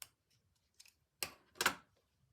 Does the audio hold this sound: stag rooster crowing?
no